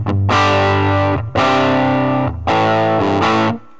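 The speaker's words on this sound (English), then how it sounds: "Turn the volume down a little bit, and the reverb gets a little bit more extreme then." Electric guitar through a Big White Monkey Chimp MK3 valve combo amp with valve-driven reverb, volume turned down: three loud, distorted sustained chords, each ringing for about a second before cutting off, with a reverb tail at the end.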